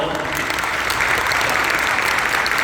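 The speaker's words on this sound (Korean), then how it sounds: "큰 박수로" Church congregation applauding loudly at a pastor's ordination, a dense, sustained roar of many hands clapping close by with no break.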